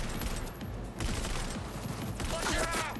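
A weapon fires in the video game Cyberpunk 2077 as a fairly quiet, continuous fusillade of rapid shots, dense and unbroken across the whole moment.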